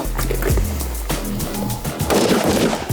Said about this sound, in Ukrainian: Ми стріляємо з різних е, положень на швидкість